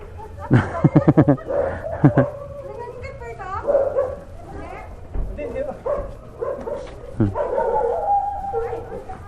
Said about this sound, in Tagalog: nakatakas yung aso